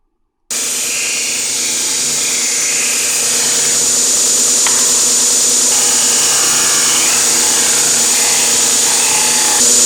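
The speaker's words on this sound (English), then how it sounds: "When using the disc sander and you turn it off, it tends to spin for quite a while" A woodshop disc sander runs steadily after a brief silent start, a loud continuous whirring drone with a high whine, close and alone, with a faint scraping contact in the middle.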